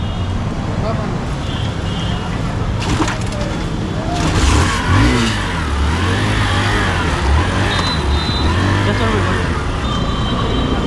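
A motorcycle engine revs and accelerates on a road in flood-hit India, a loud, close, continuous drone that rises and falls in pitch, with traffic noise and bursts of wind around it.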